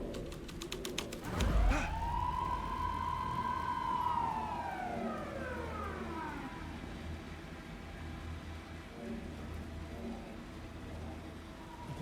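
A police car siren in the video game Alan Wake 2 wails once in a long rising and falling sweep, fairly faint and distant, after a brief sharp burst at the start, with no talking.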